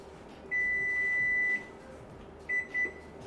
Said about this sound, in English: that was just the timer for the bread